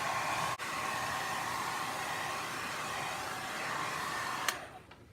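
A hair dryer blows steadily and loudly at close range over a watercolor painting, a continuous airy roar that cuts off near the end.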